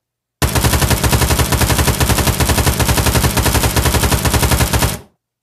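A full-auto AK-47 style rifle in the Pavlov VR shooting game fires one long, loud, unbroken burst of rapid, evenly spaced shots lasting about four and a half seconds, then stops abruptly.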